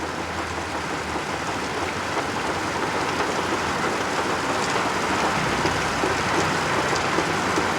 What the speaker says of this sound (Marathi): मुंबईच्या अनेक भागांमध्ये जोरदार पावसाला सुरुवात झाली आहे